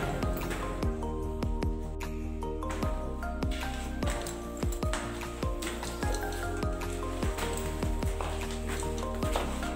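Water drips inside a warm cave, with many sharp plinks and splashes falling in an uneven, steady patter, echoing off close rock walls over a faint low wash of flowing water.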